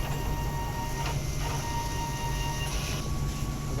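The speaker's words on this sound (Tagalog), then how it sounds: "head cleaning na po natin siya." DTF printer running a print-head cleaning cycle, giving a steady, moderately quiet mechanical hum with a faint constant whine and occasional soft clicks.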